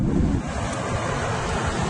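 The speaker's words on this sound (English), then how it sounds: "This is a very windy day" Strong wind on a very windy day at Dunbar's roars steadily and buffets the microphone, a loud, continuous rush with no pauses.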